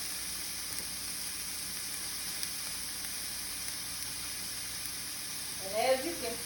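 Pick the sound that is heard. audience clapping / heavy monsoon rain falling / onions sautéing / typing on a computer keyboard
onions sautéing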